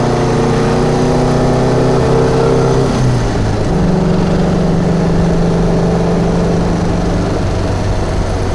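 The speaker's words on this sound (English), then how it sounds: "It has a little bit of a vibration noise in the shifter." A 1951 MG TD engine hums steadily while driving, with a clear drop in pitch about three seconds in as the gear changes, and a faint buzz from the shifter riding under the steady engine note.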